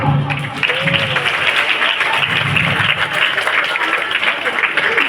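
An audience at a student performance by a class 6 student breaks into loud, continuous applause, a dense roar of clapping with some crowd voices mixed in throughout.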